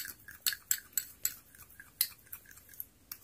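A lemon being stirred into a homemade face paste in a bowl, giving quiet, irregular scraping and clinking taps of a utensil against the bowl, with no talking.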